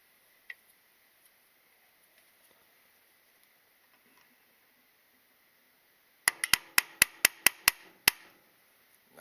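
A hammer strikes a punch on a Harbor Freight 30-inch bending brake, a quick run of about seven sharp metallic blows close by after a long near-silent stretch.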